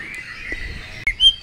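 A green leafbird (cucak hijau) sings a short run of clear, high whistled and chirping notes, close and fairly loud, ending in a brighter trill.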